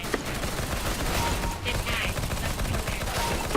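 P90 submachine gun fire in Counter-Strike: Global Offensive, a dense rapid burst of shots under game effects, loud and close, with a voice faintly in the mix.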